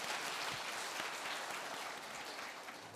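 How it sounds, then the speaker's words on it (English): Audience applause at a debate forum, a dense, steady patter of many hands clapping at moderate distance, fairly faint and tapering slightly toward the end. "So please welcome Professor Lawrence Kotlikoff with a big round of applause"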